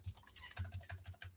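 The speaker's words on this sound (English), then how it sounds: "I'm going into silent typing mode for a moment." Quiet, rapid clicking of computer keys typed in an irregular patter, close by and soft, with no voices.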